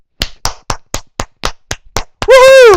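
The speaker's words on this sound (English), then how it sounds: "let's give them a round of applause for that" Applause for the London Knights hockey team: about eight sharp, evenly spaced hand claps, loud and close, followed by a high whooping cheer.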